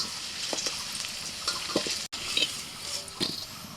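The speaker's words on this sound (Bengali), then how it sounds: "আলুগুলোকে একটু লাল লাল করে ভেজে তুলে নিচ্ছি।" Potatoes fry in oil until reddish-brown for an egg curry, a close, steady sizzle with intermittent stirring scrapes and light clatter, briefly cutting out for an instant midway, no talking.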